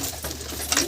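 Domestic pigeons, including large old-line Kaldom birds, cooing softly inside a loft, the low murmuring steady and close with faint rustling, no voices.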